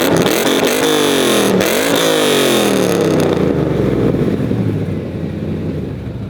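The engine of a Ford E-Series van starts and revs, a loud, close roar that climbs twice in pitch and then settles to a dropping idle, with no talk.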